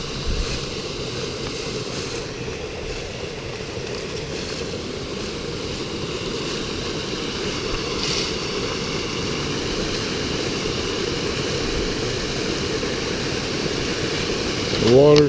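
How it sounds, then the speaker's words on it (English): Steady rushing water fills the scene, a continuous broadband wash with no pauses, fairly loud and close. "The water's flowing."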